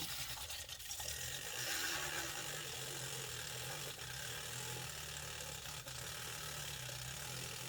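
A blender whirs steadily as it mixes meatball ingredients, a continuous mechanical grinding with a slight rattle of lumps striking the blade, fairly loud and alone without talk.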